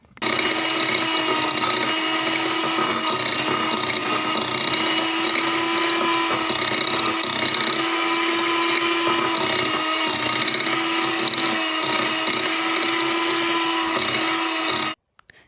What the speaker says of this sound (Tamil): பவுலில் பட்டர் போட்டுட்டு அதுக்கு வந்து சுகரையும் போட்டு இது வந்து நல்லா பீட் கொள்ள வேணும்